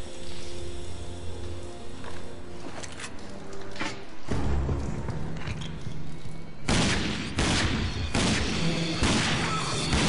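Rapid bursts of gunfire and loud booms fill an ambush firefight in the RAGE video game, growing denser and louder in the second half with sharp repeated volleys.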